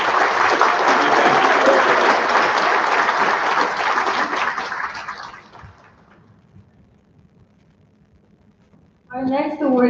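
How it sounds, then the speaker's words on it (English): Audience applause at a school academic awards ceremony, a dense even wash of clapping that fades out over several seconds into quiet room tone before a voice begins speaking. "give him a round of applause"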